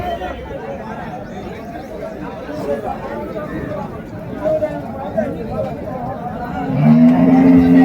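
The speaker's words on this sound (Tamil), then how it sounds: "இதெல்லாம் பார்த்தீங்கன்னா நம்ம ஜவாதி மலை மாடுங்க" Jawadhi hill cattle at the Uthangarai cattle market, some low moos rising near the end over a steady crowd murmur and chatter of traders.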